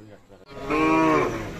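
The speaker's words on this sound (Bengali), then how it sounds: "এই পাশে কয়েকটি বাছুর দেখছি, আর এই পাশে কিন্তু গাভী গরুগুলো" A cow gives one long, loud moo at a cattle market among cows and calves, rising after a brief quieter stretch of background noise and holding clearly in the foreground.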